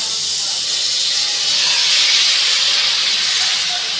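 Marinated chicken hits a hot, dry kadai with no added oil, producing a loud, steady sizzling hiss that swells slightly midway and continues without break.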